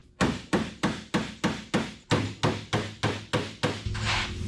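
A hammer strikes the metal deck lid of a 1969 Chevelle in a workshop, about a dozen evenly spaced sharp bangs close by, followed by a brief hum of noise.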